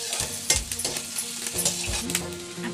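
Chopped onions fry and sizzle in a hot pan while a spoon stirs and scrapes through them, with steady crackling and a few louder clinks, the start of a pumpkin and radish leaf sabzi.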